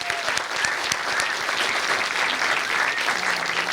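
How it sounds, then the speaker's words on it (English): A film festival awards night audience applauds the adjudicating panel, steady dense clapping filling the room evenly from start to finish with no talking over it. "they definitely deserve a round of applause too"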